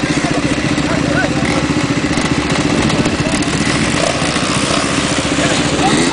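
Motor engine revving and labouring in thick mud, a loud, close, continuous rough drone with rapid pulsing, with voices shouting over it throughout.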